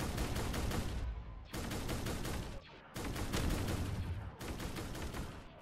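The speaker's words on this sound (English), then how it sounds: "I love the sound of the cannons on that thing." Rapid cannon fire from a Star Wars Imperial ship battling modern military helicopters in Garry's Mod, dense repeating bursts of booming shots in four long volleys with short gaps between them.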